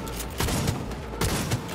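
Gunfire in the video game Cyberpunk 2077: two bursts of shots, one near 0.4 s and another near 1.2 s, ringing over a steady busy game backdrop, fairly loud and close.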